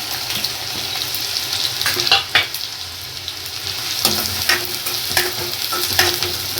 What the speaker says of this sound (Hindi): अब तेल में पहले प्याज डालेंगे।